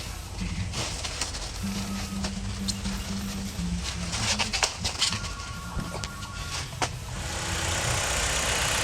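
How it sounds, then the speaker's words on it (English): A car engine with a newly fitted alternator idles with a steady low hum and faint mechanical clatter, some light ticking and whine mixed in, fairly quiet and close by. "I have the car running with the new alternator on."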